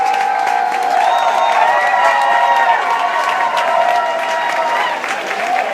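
A political rally crowd for a Colorado U.S. Senate candidate cheers and applauds steadily, a dense, loud wash of clapping and whoops with shouting voices rising throughout and easing slightly near the end.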